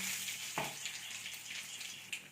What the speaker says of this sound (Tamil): பூண்டு ப்ரௌன் கலரில் வர வரைக்கும் வறுக்க விடுங்க